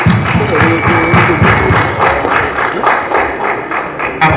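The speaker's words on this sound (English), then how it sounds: "Let's give him a round of applause." Symposium audience at a Pan African leadership event gives a round of applause, loud, dense clapping with rhythmic thuds, mixed with crowd murmur for several seconds.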